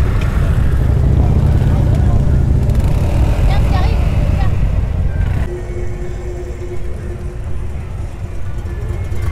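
Low, rumbling engine of a Moto Guzzi motor tricycle at an outdoor vintage vehicle meet, running steadily and close up, with a shift in tone partway through and crowd noise around it.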